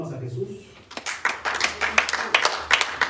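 A church congregation claps along in quick rhythmic bursts after a short spoken lead-in, the hand claps close and repeated, with a voice heard over the start.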